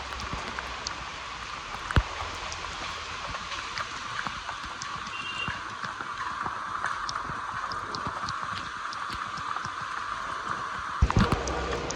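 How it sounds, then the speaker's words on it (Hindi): Rain falls steadily throughout, a dense even patter of drops on surfaces with scattered sharper taps, moderately loud and continuous with no voices. "बारिश हो रही है भाई"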